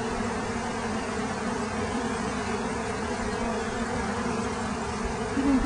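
Honey bees swarm in a hive being removed during a rescue: a dense, steady, unbroken buzzing drone fills the whole stretch, close and even in loudness, with no talking.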